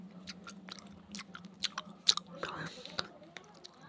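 A person chews a mouthful of siomai rice at Siomai King, with soft, close, irregular chewing and occasional crunchy bites over a low background hum.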